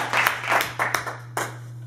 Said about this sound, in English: let's give a big round of applause for our